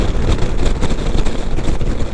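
A 2022 BMW C 400 GT scooter is ridden at high speed, with a steady loud roar of engine and wind buffeting throughout.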